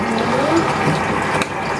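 Water treatment liquid poured into a 4 ft aquarium gives a steady, close splashing and gurgling for about two seconds, with no voices.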